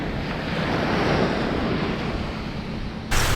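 Ocean surf at Fort Morgan on the Gulf Shores beach washes in as a continuous broad roar, close and fairly loud, mixed with wind buffeting the microphone and a sudden surge near the end.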